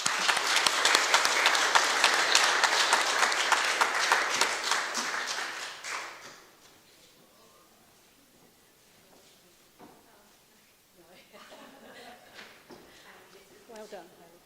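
Crowd applause at an outdoor Australia Day celebration in Lucindale, dense and steady clapping for about six seconds before fading out, followed by quiet murmuring voices and light scattered noise.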